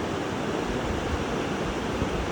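Steady ocean surf breaking at a beach, a continuous broadband wash of waves with wind over the microphone, fairly close and even in level, with no voices.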